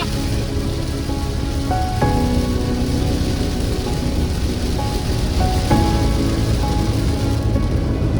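Steady rain falls in Ladakh, a dense, continuous hiss of drops that holds at an even level throughout, with faint tonal sounds drifting through the background and no voices.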